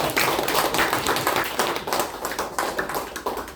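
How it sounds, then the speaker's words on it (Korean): An audience claps together in a dense, continuous burst of applause lasting a few seconds, fairly close and even in loudness. "또 한 번 박수."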